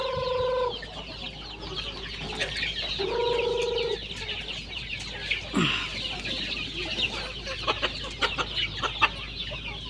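Native and Red Island chickens cluck on a muddy farm in a busy, close chorus. Drawn-out calls and sharp clucks come in uneven bursts, with no voices over them.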